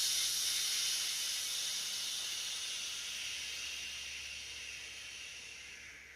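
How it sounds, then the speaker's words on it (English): A long, steady breathy hiss of air being pushed out, slowly fading over several seconds with no other sound. "on the exhale, I want to hear it come out"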